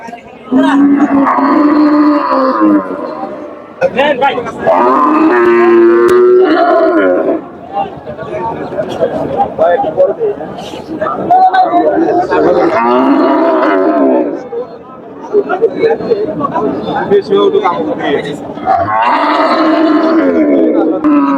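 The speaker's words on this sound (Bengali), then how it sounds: "ওনার কাছে বেশ বড় সাইজের গরুই আছে এই হাটে" Large cattle at the Harogaj cattle market in Manikganj moo loudly in long, drawn-out calls, one after another, with people talking among the herd.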